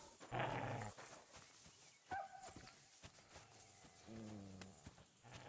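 In the medieval game Kingdom Come: Deliverance II, a dog fights a wolf, snarling and growling in harsh bursts while hoofbeats and other combat noises sound in the background.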